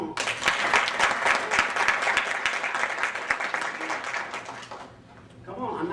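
A room full of people claps steadily in a dense, sustained burst, close and loud, tapering off toward the end, with a voice coming in over the last moment.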